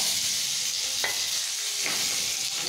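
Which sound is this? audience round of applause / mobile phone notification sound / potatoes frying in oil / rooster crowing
potatoes frying in oil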